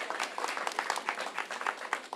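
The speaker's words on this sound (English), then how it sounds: "I bid you a big applause for Bruno and for the team" A seminar audience claps for the organisers and their team, a soft, fairly distant patter of many hands lasting a couple of seconds without speech.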